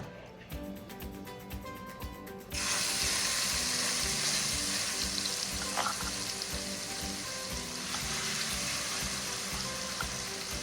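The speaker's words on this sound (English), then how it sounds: "I'm going to add my meat" Meat goes into a hot pot for a pasta sauce and bursts into loud, steady frying sizzle that continues close and unbroken after a short quieter start.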